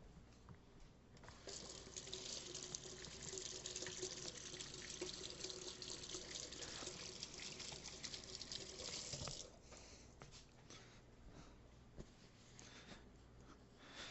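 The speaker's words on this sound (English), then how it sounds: "Now we wash our hand." Tap water runs into a sink for several seconds while hands are washed under it, a soft steady splashing that stops abruptly, followed by faint drips and quiet handling noises in a home kitchen.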